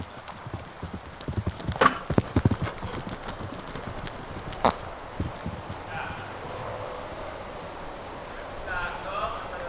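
Horse hooves clip-clopping at a steady gait during a jumping lesson, moderately close, over outdoor wind and rustle.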